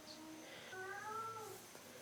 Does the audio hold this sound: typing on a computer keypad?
no